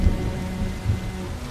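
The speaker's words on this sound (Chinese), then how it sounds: "下雨了" Rain falls steadily at night, a dense soft patter over a low rumble, with a couple of brief heavier thuds.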